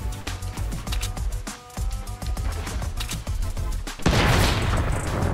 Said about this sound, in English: Oh, you have a heavy sniper, huh?